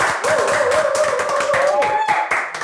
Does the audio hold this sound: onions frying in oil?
no